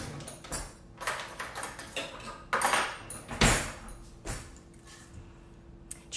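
Keto chocolate ricotta cookie dough mixed with a fork in a bowl, a series of irregular clinks and scraping taps of metal against the dish, fairly close and alone.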